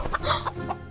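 A farm chicken gives a short series of soft, close clucks, about four quick notes in under a second with light background noise.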